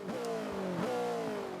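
An Ariel Atom V8 500's engine in Forza 5 revs hard and climbs steadily, a loud, close, buzzing roar with a quick shift break partway through, alone with no talking.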